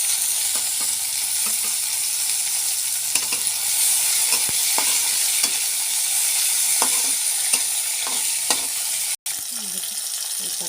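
Tomato and vegetables stir-fried in a pan while cooking an eggplant dish, giving a steady loud sizzle with scraping stirs at irregular intervals and one brief cut near the end; no talking.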